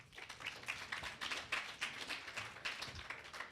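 A modest round of applause from an audience at an author talk, fairly quiet and uneven, with clustered claps rising and falling in brief bursts and no talking over it.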